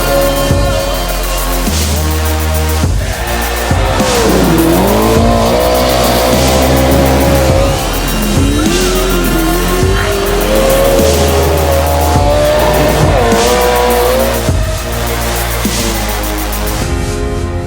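A Pro 2 off-road race truck roars around a dirt track, its engine loud and close throughout, rising and falling as it revs through corners with tyre scrabble and shifting pitch, no voices.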